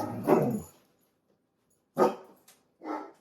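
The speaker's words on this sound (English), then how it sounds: "my dogs were barking at the mailman" Dogs barking at a mail carrier: one heavy bark burst, then a gap, then two more close barks, loud and near, with no talking.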